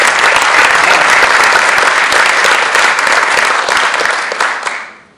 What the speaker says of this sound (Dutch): Mag ik een hartelijk applaus, dames en heren, voor Heino Fauke